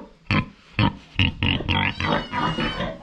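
A pig on a farm grunting and oinking in a run of about eight close, loud, rhythmic grunts with no talking over them.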